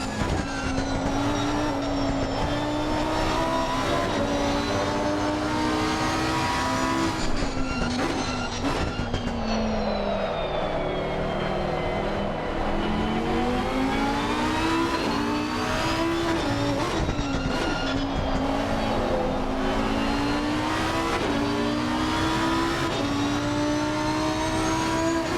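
Onboard BMW M4 race car lapping Brands Hatch in Assetto Corsa Competizione, a loud continuous engine note sweeping up through the gears and dropping under braking, several shifts, with no voices over it.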